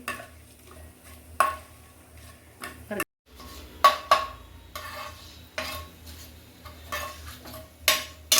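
A spoon stirring spices and asafoetida in a pan of cooking vegetable curry, giving quiet scraping sweeps and sharp metallic taps against the pan at irregular intervals, with a soft sizzle underneath.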